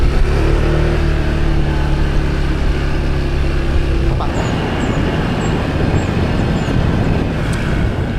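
A loud, continuous motor drone with heavy rumble from a rented Honda PCX 160 scooter pulling away and riding in Bohol, with steady roaring road and engine noise throughout.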